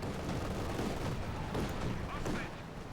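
Machine gun fire from a .50 cal in the strategy game Company of Heroes 2, dense, rattling bursts of gunfire and booms from battle running through the clip, with a commentator talking over them.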